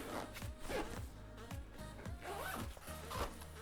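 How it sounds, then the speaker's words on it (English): A Peak Design 30L Everyday Backpack being zipped shut, several quick rasping zipper pulls in short bursts, close to the microphone, with no talking. "Let's go ahead and zip those back up."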